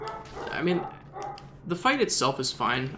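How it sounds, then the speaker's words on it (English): A dog barks in the background while someone talks over it during a gaming commentary session, with brief yips rising between his words. "Sorry about the dog."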